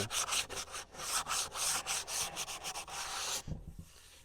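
Sandpaper of 120 grit rubs by hand along the edge of an end-grain wooden cutting board in quick, steady back-and-forth strokes, close and clear, ending with a few soft knocks.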